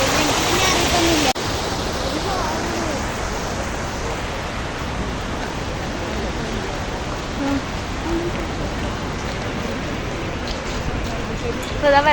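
Water from the Peechi dam spillway in Thrissur, released through the opened gates, roars as a constant broadband rush that fills the whole stretch, loud and steady, with a brief sharper burst of noise at the very start.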